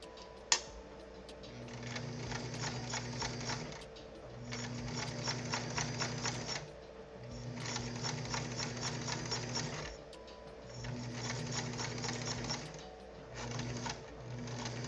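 A sewing machine top stitches a fabric piece in steady rapid mechanical bursts, stopping and restarting several times with brief pauses between runs, close and continuous.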